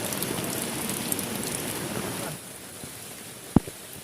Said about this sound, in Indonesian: Hujannya sangat lebat teman-teman ya